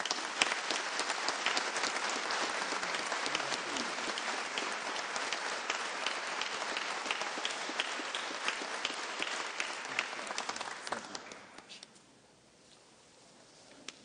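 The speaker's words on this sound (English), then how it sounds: "Another round of applause, please." An audience at a Veterans Day ceremony in Phoenix applauds Senator John McCain with a long, dense burst of clapping that holds steady, then thins out and dies away near the end into quiet room tone.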